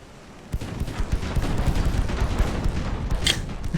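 Battleship guns fire in the naval game Ultimate Admiral Dreadnoughts, a rapid barrage of booms and cracks that starts abruptly after a quiet half second and keeps going.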